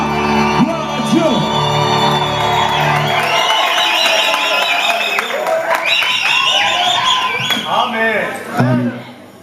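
Church congregation shouting cheers of joy: one voice rings out first, then many overlapping voices whoop and yell loudly together, rising and falling in bursts.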